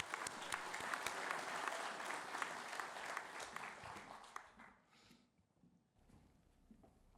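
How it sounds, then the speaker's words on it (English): An audience applauds as panelists join the stage at a port electrification conference, a dense steady clapping for about four seconds that fades out into a quiet room. "Let's give them a round of applause as they join us on stage."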